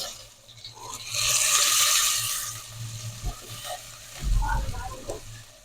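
Poa fish frying in a little oil in a pan: hissing sizzle that swells and fades with sporadic pops and thuds from turning the fish, close and fairly loud, with a voice briefly audible.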